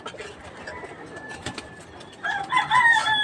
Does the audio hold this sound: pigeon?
yes